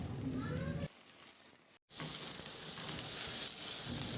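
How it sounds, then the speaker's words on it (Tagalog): Onions frying in a pan for a Filipino chicken dish, a steady broad sizzle with occasional stirring scrapes, cut by a brief silent gap before the frying resumes just as loud. "Maglagay na rin ako ng sibuyas. Ganong process lang din, ihalo lang din hanggang sa maluto yung sibuyas."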